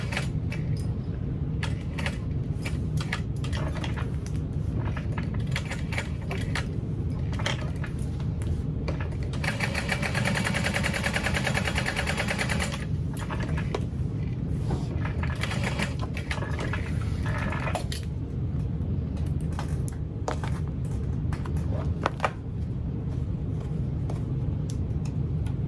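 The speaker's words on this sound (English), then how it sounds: "I'm going to sew that strap into place" A sewing machine stitches a strap onto a bag in steady mechanical runs with brief pauses between bursts, and a longer, denser run of stitching comes midway.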